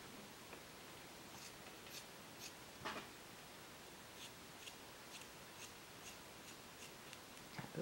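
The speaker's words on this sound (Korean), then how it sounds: "바로 아랫부분에서 가위로 잘라주시면 되겠습니다" Scissors snipping through a cotton sock, cutting just below the heel to form a snowman doll's body, heard as several faint, light snips spread out over a quiet background with no talk.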